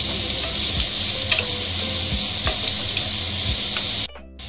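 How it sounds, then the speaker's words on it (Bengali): Chopped onions frying in hot oil for a Bengali-style mixed dal tadka, a steady loud sizzle with a bright hiss and occasional stirring scrapes, cutting off abruptly near the end, no voices. "পেঁয়াজটা আমরা কিছুক্ষণ নেড়ে নেব, যতক্ষণ না পেঁয়াজটার রংটা একটু চেঞ্জ হয়ে যায়।"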